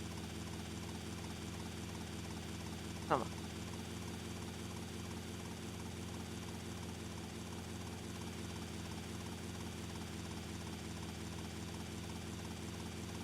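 Police helicopter in GTA Vice City, a steady droning rotor and engine hum holding at an even level throughout, with one brief sharp tone cutting through early on.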